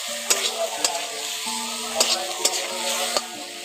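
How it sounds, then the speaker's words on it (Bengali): Fried potatoes being stirred into a sizzling spice masala in a pan, with a spoon knocking and scraping against the metal at irregular intervals over a steady, close frying hiss. "আলুগুলো দিয়ে মশলার সঙ্গে ভালো করে একটু মিশিয়ে নিচ্ছি"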